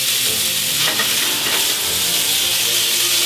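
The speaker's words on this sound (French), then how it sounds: "Médaillon, pince. Et on fait saisir." Kangaroo medallions searing in duck fat in a hot pan, a loud continuous sizzle and crackle filling the whole moment with no voices.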